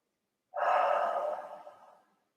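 One long exhale of deep breathing during a Bikram yoga class, close and breathy, swelling quickly and then fading out over about a second and a half after a moment of silence.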